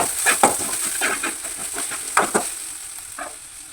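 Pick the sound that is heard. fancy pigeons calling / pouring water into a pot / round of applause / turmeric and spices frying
turmeric and spices frying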